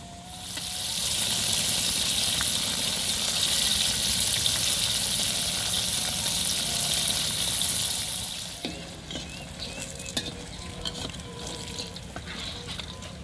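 Crispy eggplant fries in a pan of hot oil with a loud, steady sizzle for about eight seconds. The sizzle then drops away, leaving quieter kitchen clatter and light handling noises.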